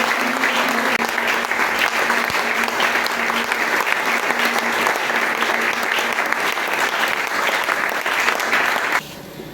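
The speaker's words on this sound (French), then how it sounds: "Est-ce qu'on peut acclamer ce grand homme?" A church congregation applauding at a Sunday service, a loud, dense and steady wash of clapping that carries on for several seconds before tapering off abruptly near the end.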